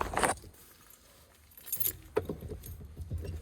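A set of car keys jangles in two close, crisp bursts, with quieter handling rustle between them, just before a 1984 Mazda RX-7 is started.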